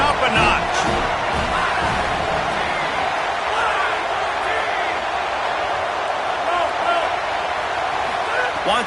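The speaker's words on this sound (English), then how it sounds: "this crowd is turning it up a notch" A home crowd at a football game roars loudly in a large stadium, a sustained, dense cheer with a commentator's voice talking over it.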